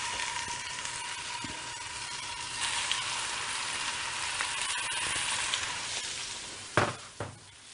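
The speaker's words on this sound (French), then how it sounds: "Donc là, votre veau est en train de saisir." Veal grenadins sear in a very hot frying pan with a steady, dense sizzle, close and continuous, ending in a couple of sharp clatters of the pan.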